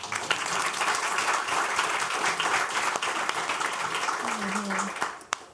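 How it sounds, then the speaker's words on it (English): A roomful of people applaud at a county council legislative meeting, a dense, steady ovation that stays loud for several seconds before tapering off, with a voice briefly heard near the end. "Give them a round of applause, please."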